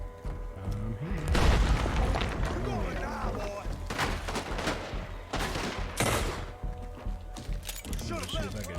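Gunfire in a first-person game aimed at a wall panel, loud booming shots and bursts mixed with a voice talking over them throughout.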